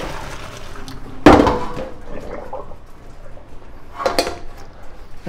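Cooked gnocchi tipped from a metal pot into a strainer, one sharp clattering clang of cookware followed by softer knocks and a second rattle near the end.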